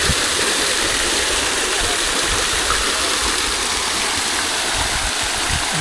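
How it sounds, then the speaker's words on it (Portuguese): A park waterfall and stream rush in a steady, loud, broadband roar of flowing water with a gurgling undertone, constant throughout, with no talking heard. "A nossa cascata do amor."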